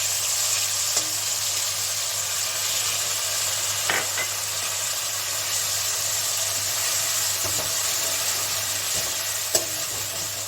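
Spice masala frying in hot oil for a paneer white gravy gives a steady, close sizzle with occasional light stirring knocks, no voices.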